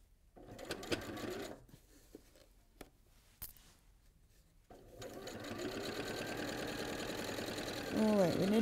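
A sewing machine stitches the central seams of a Liberty fabric needle case, starting in short bursts between pauses, then running in a long continuous whir, with someone speaking briefly.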